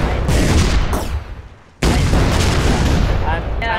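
Triple-shot weapon fire in the ShellShock Live artillery video game, heavy booming blasts that fill the clip, broken by a short lull before a loud renewed burst.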